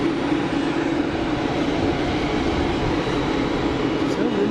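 A jet airliner at Geneva Airport gives off a steady, loud engine roar with a low rumbling hum that holds evenly throughout, heard from nearby.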